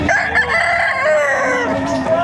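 A two-year-old Golden Boy Sweater rooster at a livestock auction market in Padre Garcia, Batangas gives one long crow, loud and close, with faint talk nearby.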